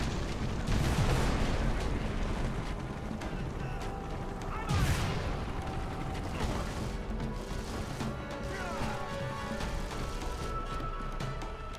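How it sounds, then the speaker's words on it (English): Gunfire and blasts in Avatar: The Game: two heavy booming bursts stand out over a dense, ongoing clatter of combat noise throughout. "A lot of shooting."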